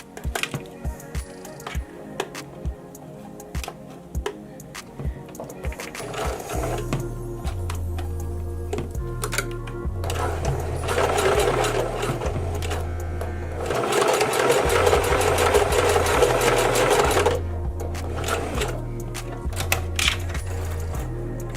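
Sewing machine stitching a double track of hair bundles together, its motor whirring in rapid rhythmic runs that start and stop, getting louder and denser in the middle before easing off, with no talking.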